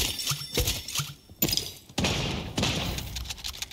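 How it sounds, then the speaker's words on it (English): Sharp gunshots crack out in irregular bursts, some sharp and punchy, others trailing into noisy rumble, like video game gunfire. "Damn, more gunfire."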